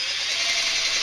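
A cordless drill starting a hole in a kayak for a flush-mount rod holder gives a steady high-pitched whine without a break, close and loud, with no voices.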